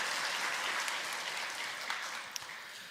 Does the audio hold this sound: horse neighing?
no